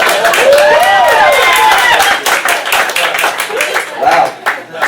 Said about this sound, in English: Applause past my bedtime.